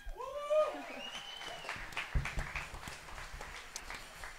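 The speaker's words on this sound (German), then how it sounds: "Grosser Applaus." An audience applauds at a school burlesque musical performance in Scuol, a steady patter of clapping that fills the clip after a brief voice at the start, moderately loud and close.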